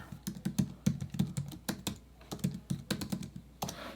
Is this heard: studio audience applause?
no